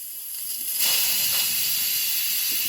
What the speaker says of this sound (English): this is the kind of steam you can expect, look